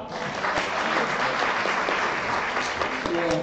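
Loud, steady applause from an audience at an education forum talk concert, a dense wash of clapping filling the whole moment with no voices over it.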